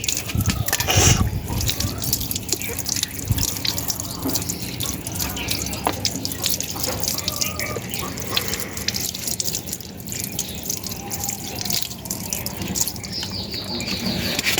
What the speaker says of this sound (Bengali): এইসব নোংরা ধুয়ে ফেলতে হবে। আর ধুয়ে ফেলে এদিকে আসেন, ভালোভাবে ধুয়ে নেবেন।